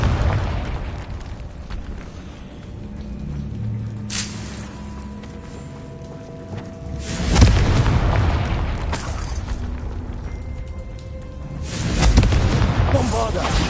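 Confringo fire-blast explosions in a Harry Potter video game, two heavy booming bursts several seconds apart rising out of a low rumbling game background.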